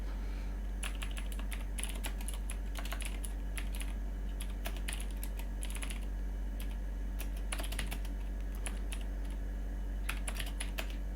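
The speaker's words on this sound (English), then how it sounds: "Keyboard stuff." Typing on a computer keyboard during a programming session: irregular bursts of close, crisp keystrokes come in clusters with short pauses between them, over a steady low electrical hum.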